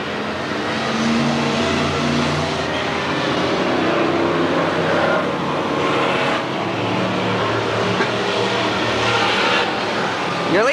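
Race cars roaring around Willamette Speedway during a D main event, a dense, steady engine drone that swells and fades as the pack circles, with an announcer talking over it.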